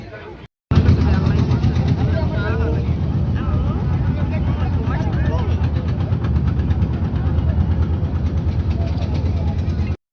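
A motor boat crossing a river at night, its steady engine drone running throughout beneath a crowd of people talking nearby, after a brief quieter moment at the start.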